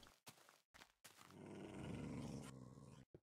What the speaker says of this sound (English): They're still growling.